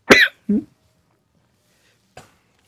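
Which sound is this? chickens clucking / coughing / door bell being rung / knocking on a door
coughing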